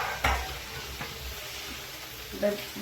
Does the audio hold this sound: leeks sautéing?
yes